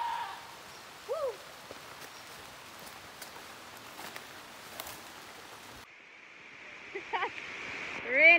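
Rain falls outdoors on an off-grid livestock homestead, a faint, steady hiss under the trees with a few brief high chirping calls scattered through it.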